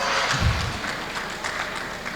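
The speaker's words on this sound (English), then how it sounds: "Please, can you give him a round of applause?" Audience applause at a local investors forum in Benue, a steady wash of clapping from a seated crowd that holds at an even level for about two seconds, with a faint voice underneath.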